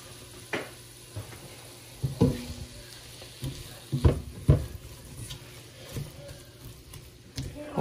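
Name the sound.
food frying in a pan with garlic powder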